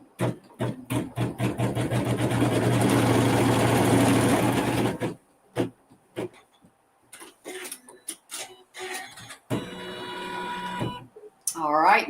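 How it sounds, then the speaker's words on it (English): A sewing machine stitches a seam in one fast, even whirring run for about five seconds, then stops; brief handling clicks and a voice speaking follow afterward. "So we're going to stitch the seam"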